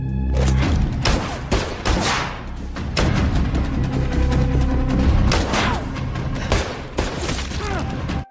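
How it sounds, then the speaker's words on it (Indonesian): Gunfire exchange in a film, a series of loud, sharp shots and heavy thuds in irregular bursts over a dense cinematic soundtrack. "Di sini mereka saling jual beli tembakan"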